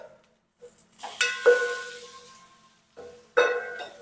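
Marinated chicken with chilli and garlic hits a pan over low to medium heat, making a couple of sharp clattering drops and stirs, each followed by a sizzle that fades.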